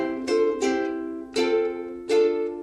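Four clear strums on a ukulele, alternating chords in a loose rhythm, each ringing briefly before the next stroke, close and alone.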